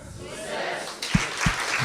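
An audience at a talk on healthy interpersonal relationships claps in unison: a few sharp, near claps land in quick succession over a low murmuring room.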